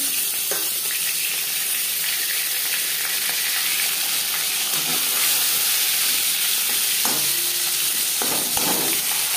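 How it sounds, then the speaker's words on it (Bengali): Pieces of rohu fish fry in hot oil in a pan, giving a steady, loud sizzle and crackle with occasional clicks of stirring and no talking. "পরের মাছ ভেজে নেব"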